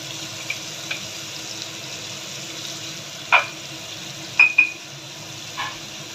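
Tomatoes frying in a pan, giving a soft continuous sizzle with a few brief louder stirring or scraping sounds near the middle, quiet and close, with no voices.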